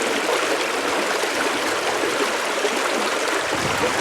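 A creek running high with spring water makes a continuous, full rushing and burbling sound, close and steady throughout with no voices.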